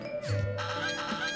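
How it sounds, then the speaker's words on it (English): Squawking, agitated bird cries from a flock of enemies in the video game CrossCode, short harsh calls over a steady electronic music bed, with no talking. "Furious bird noises."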